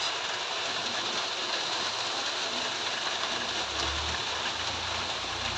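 Steady rain falls in a continuous, even hiss of drops on surfaces, with no voices and only a faint low rumble underneath.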